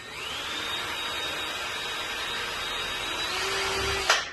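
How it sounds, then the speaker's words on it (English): A steady high-pitched electric drill whine runs continuously, close up, drilling through a template hole for a vanity handle, its pitch dropping slightly near the end before a brief sharp clatter as it stops. "very carefully drill through the hole in your template."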